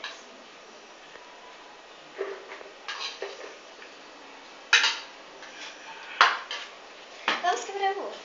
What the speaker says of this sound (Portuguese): Júlia, coloque o arroz. Quanto de arroz? 2 xícaras.